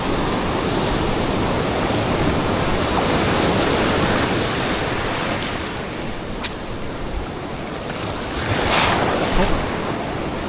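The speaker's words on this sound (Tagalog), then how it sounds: "Lakas kasi ng agos" Strong sea waves and a fast current roar continuously in a broad wash of surf and water noise, with wind buffeting the microphone and a brief surge toward the end.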